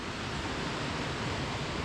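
Water rushing steadily down through a rocky fissure between cliffs, a dense continuous roar with an even level throughout and no voices.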